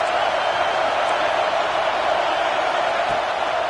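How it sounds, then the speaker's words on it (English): A football stadium crowd roars steadily and loudly behind the defense on a big third down in the red zone, a dense continuous wash of cheering with no breaks. "this crowd is getting behind this defense"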